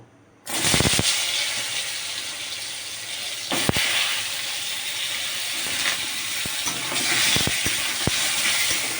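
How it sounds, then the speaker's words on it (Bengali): Pointed gourd pieces frying in hot oil with salt and turmeric give a loud, steady hiss and sizzle that starts abruptly and runs throughout, with a few sharp clicks of the pan along the way. "সামান্য লবণ আর সামান্য হলুদ দিয়ে দেব হলুদ দিয়ে আমি পটলটাকে অল্প ভেজে নেব"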